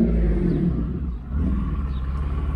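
A 1993 Mercedes 600SEC engine idles loudly with a failing water pump, giving a deep, steady rumble with a faint rattling clatter running through it, close by and with no talk.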